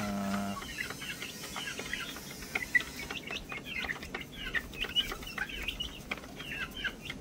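Gamefowl chickens, roundhead and sweater crosses, cluck and chatter softly around a game farm, a scattered run of short calls at moderate distance with low ambient rumble and no voices.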